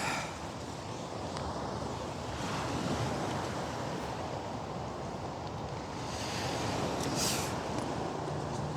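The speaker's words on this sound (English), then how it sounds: "I wonder how loud the waves are gonna be crashing." Steady ocean surf rolls and crashes continuously, a broad washing roar with some wind buffeting the microphone.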